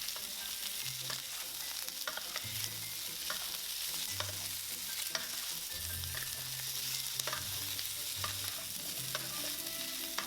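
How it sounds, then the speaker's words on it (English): Garlic stir-frying in a pan for pork adobo, a steady close sizzle with intermittent scraping and stirring clatter throughout. "Place in the garlic and stir fry until aromatic, 30 seconds."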